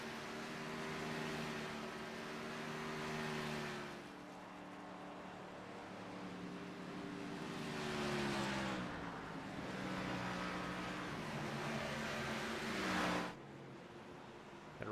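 Race car rolling down pit road at a New Hampshire oval, its engine a steady mid-distance drone that swells and fades slightly at low speed, heard alone without talk.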